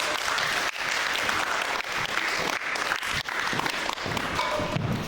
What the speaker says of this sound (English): Everybody give it a round of applause